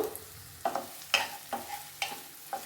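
Onions and curry leaves frying in a pan over a medium flame, with a soft sizzle broken by several sharp scraping stirs at a steady rhythm, close and fairly quiet.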